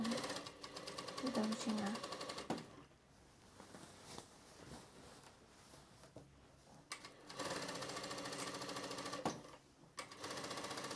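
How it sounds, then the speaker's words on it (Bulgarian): A sewing machine stitches a seam while taking in an evening dress, running in two long, steady rattling bursts with a quieter gap in between, and someone speaks briefly over it. "И продължавам самия шев до 30 см"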